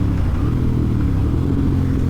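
A motorcycle engine brakes after a downshift into a lower gear, a steady, loud, close low rumble under load with no voices.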